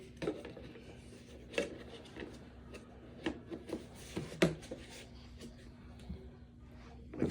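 Homemade laundry detergent mixture being stirred by hand, giving soft irregular scraping and knocking strokes, close and fairly quiet, with a low steady hum beneath.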